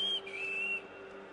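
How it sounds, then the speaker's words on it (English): Connor, the Assassin's Creed 3 character, gives a short clear whistle: a steady high tone that dips briefly and then holds. It is close and fairly quiet, with no talk over it. "So I think that was Connor whistling"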